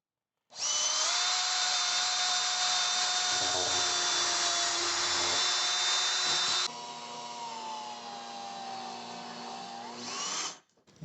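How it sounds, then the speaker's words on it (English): A power drill whines loudly and close as it bores countersink holes into tough PVC during a mobile home bathroom rebuild, pitch dropping partway through under load before spinning down at the end. "I drilled some countersink holes for the heads."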